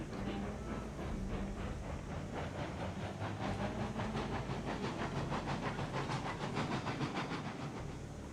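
A steam locomotive runs in the railroad game Railroads Online, its rhythmic chuffing and hissing exhaust beating steadily at a moderate pace, quiet and even throughout.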